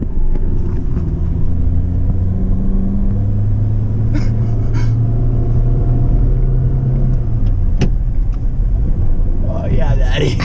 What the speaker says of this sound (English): Keep doing burnouts,